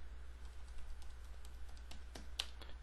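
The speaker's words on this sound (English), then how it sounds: "So what I'm going to do is I'm going to type attributes" A computer keyboard typed on for a command at a Windows Server command line, giving a run of light, irregular key clicks over a steady low hum, one keystroke standing out sharper near the end.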